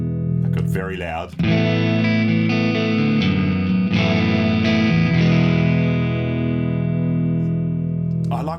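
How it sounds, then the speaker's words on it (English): An electric guitar through a neural amp sim on a Mod Dwarf rings out in sustained chords with a warm, slightly overdriven clean tone and a full low end, steady and fairly loud throughout. "I like that sort of slightly driven clean sound"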